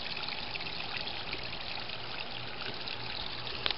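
A steady, close trickle of water falls from a homemade DIY waterfall onto river rock, an even splashing wash with a couple of faint clicks at the end.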